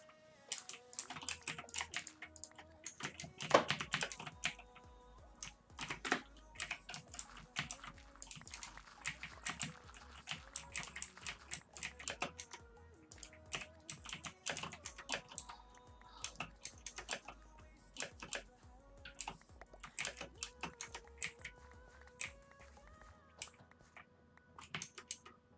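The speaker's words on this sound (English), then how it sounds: "Yeah, it's a very loud keyboard." A loud computer keyboard is typed on steadily, producing close, crisp rapid key clacks in uneven bursts with brief pauses throughout.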